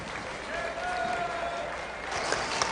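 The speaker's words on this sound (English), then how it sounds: "Let's give all of them a round of applause." Applause from the crowd at a youth fair livestock show ring, a steady wash of clapping that carries on evenly and stays fairly faint and distant throughout, with no clear voices above it.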